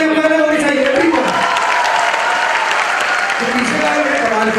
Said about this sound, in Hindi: मैं चाहता हूं तीन गुना तालियां पहले होनी चाहिए